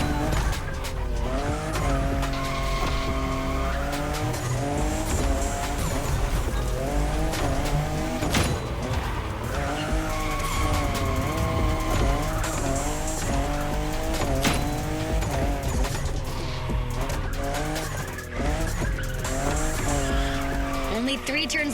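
A fifth-generation Toyota Supra drifting in a racing game, engine revving up and down continuously with tire squeal throughout, a voice talking over it.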